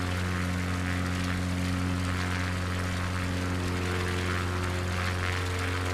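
Propeller aircraft engine droning steadily in Microsoft Flight Simulator 2024, a constant loud hum with strong low tonal harmonics and no change in pitch for the whole stretch.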